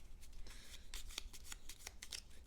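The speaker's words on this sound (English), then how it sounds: "So let's shuffle these up." Board game cards for Battlestar Galactica being shuffled by hand, a close run of quick riffling flutters and soft slaps repeating over a couple of seconds, with no talk.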